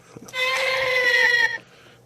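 A short communication tone from an Abarekiller Dino Minder toy morpher wavers and warbles like a bleating cry, lasting just over a second after a small click.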